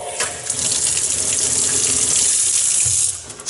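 Boiling water tap in a modern Dutch kitchen pouring a steady, loud hissing stream for several seconds before it is shut off.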